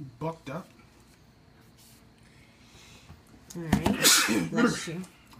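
A single sharp human sneeze bursts out loudly near the mic during a dumpster dive behind stores, following earlier conversation and rustling.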